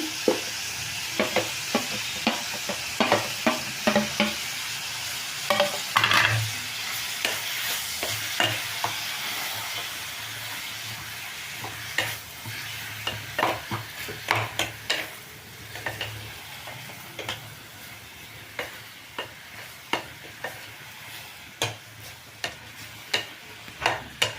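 Cluster beans and tomato frying in oil in a pan, a continuous soft sizzle broken by irregular clinks and scrapes of a spoon stirring, close up with no talking.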